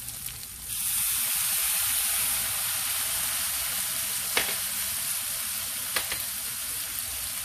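Pancit canton noodles fry in a hot pan just after soy sauce is poured in, setting off a sudden, loud, steady hissing sizzle that continues evenly, broken by a couple of brief utensil clicks.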